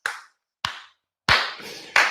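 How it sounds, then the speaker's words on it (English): Four slow, deliberate hand claps ring out close and loud, separated by clear silences, like one person giving a sarcastic slow clap. "that round of applause is for the FBI"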